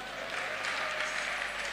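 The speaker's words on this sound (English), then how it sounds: "Clap for him." A congregation at a church service claps steadily for a man, dense applause that holds throughout at moderate volume, with no speech.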